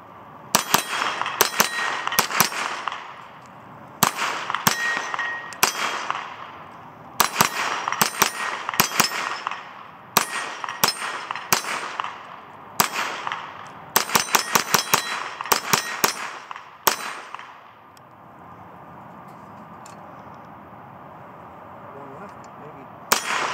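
Rapid strings of sharp 9mm gunshots from a Sig Sauer MPX fitted with a muzzle brake, fired in fast bursts with brief pauses between volleys, loud and close, then fading to quiet outdoor ambience.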